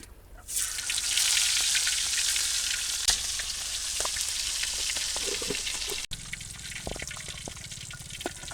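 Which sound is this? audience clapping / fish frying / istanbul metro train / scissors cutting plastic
fish frying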